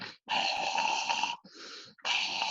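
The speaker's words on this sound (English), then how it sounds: "When he's sleeping, he starts snoring." A bulldog snoring loudly nearby while asleep, long raspy rattling breaths with brief pauses between them, no talking.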